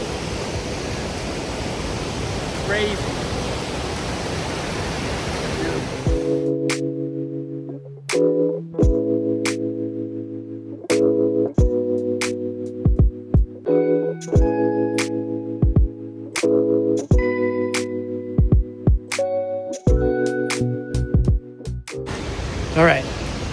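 Waterfall swollen by rain roars as a loud, steady rush for the first few seconds, then gives way to music with a voice.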